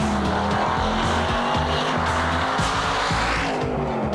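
A 1997 BMW 540i E39 accelerates hard on a track with its rear sliding out, engine roaring loudly and steadily while the tires squeal continuously, close and dense throughout.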